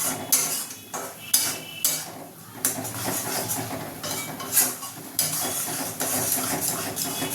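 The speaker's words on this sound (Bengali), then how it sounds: "দিয়ে এটাকে আমি নাড়াতে থাকবো যতক্ষণ না এটা থেকে তেলটা বার হচ্ছে।" A utensil stirs chicken chaap in a pan while the oil separates, with irregular metallic clanks and scrapes against the pan over a low background sizzle, close by and with no talking.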